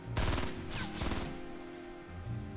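Rapid bursts of gunfire in the video game Fortnite, sniping included: a dense volley of shots in the first second, then a sustained rattling exchange that carries on loud to the end.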